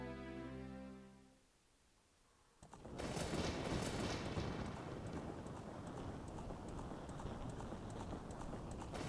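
A sustained tone fades out, then rapid rhythmic hoofbeats kick in and continue steadily, a black horse galloping at pace in The Legend of Zelda: Ocarina of Time, over a soft, noisy background.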